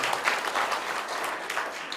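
Audience at a public education policy forum in Incheon breaks into steady, broad applause, many hands clapping densely and evenly for the full stretch with no voices on top.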